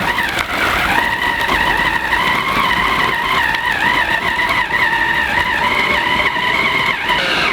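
An electric blender grinding fish into a smooth paste for homemade fish balls, giving a loud, sustained motor whine with a steady high pitch that wavers slightly and runs unbroken from start to finish.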